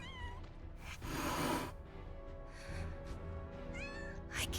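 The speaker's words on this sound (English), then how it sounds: "Kittens?" Kittens in the Final Fantasy VII Rebirth video game mew in thin, high cries, one at the start and another near the end, over a busy backdrop of game music and ambience.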